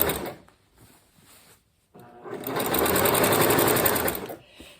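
A sewing machine stitches a quilt top together in short bursts, first a brief quiet run, a pause, then a loud, close, sustained whirring stretch that stops near the end.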